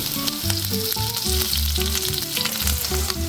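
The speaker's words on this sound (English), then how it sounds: "we're going to leave it flattened out and let it sizzle" Chicken fried rice is pressed flat in a hot pan and left to crisp, giving a loud, steady close-up sizzle with crackling throughout and no talking.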